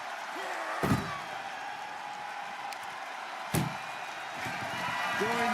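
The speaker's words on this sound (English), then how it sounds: "Get them in the ambulance and slam the doors." Ambulance doors slam shut during an ambulance match in the WWE 2K wrestling video game, two sharp loud bangs a few seconds apart over a steady arena crowd bed.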